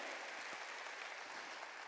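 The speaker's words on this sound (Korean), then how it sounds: "박수치자 얘기야" A church congregation claps together during a Korean sermon, a dense, steady patter of many hands that carries evenly through the short stretch without a break.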